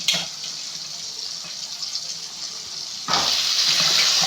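Water runs steadily from a tap over dried fish being rinsed for curry, a constant close hiss and splash that suddenly grows louder and brighter near the end.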